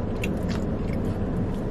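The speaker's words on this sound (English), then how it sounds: "The outside is so crunchy." Crunchy birria queso tacos being bitten and chewed up close at an eating table, a steady mix of crisp crunching and wet chewing with no talk over it.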